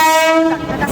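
A Mumbai local train sounds a loud, sustained horn blast as it arrives at a station platform, with the tone cutting off within a second.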